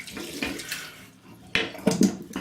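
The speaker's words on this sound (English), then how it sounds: "get some water in the sink, wet the brush" Tap water runs into a sink to wet a shaving brush, with a soft gurgling flow broken by a few brighter splashy bursts near the end.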